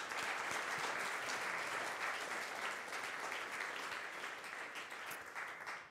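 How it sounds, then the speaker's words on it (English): An audience applauds the jury at a startup demo day: a continuous wash of many hands clapping, even and fairly soft, tapering slightly toward the end, with no talk. "Please give them a big round of applause"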